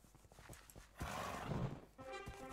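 Horse hooves clip-clopping in the medieval combat video game WarLords, with a horse neigh and busy game noise, heard fairly faintly at low overall level.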